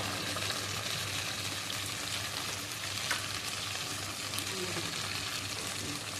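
Tomato, ginger and a splash of water frying in hot oil in a home kitchen make a soft, steady hiss and sizzle that stays quiet and even throughout.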